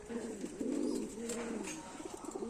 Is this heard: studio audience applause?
no